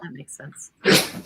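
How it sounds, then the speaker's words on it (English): A dog gives a single sharp, breathy sneeze nearby, right after a few words spoken in a calm conversation. "That was a sneeze."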